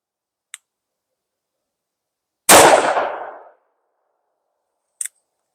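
A Taurus Tracker .44 Magnum revolver fitted with G10 grips fires a single loud, close gunshot whose blast rings and decays over about a second, with faint clicks before and after.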